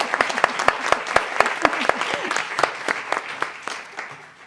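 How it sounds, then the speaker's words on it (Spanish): An audience at a talk on Alzheimer's care applauds, with distinct sharp claps in a quick irregular rhythm, fairly close and lively, tapering off toward the end with faint voices under it. "Vamos a aplaudirle a Pablo."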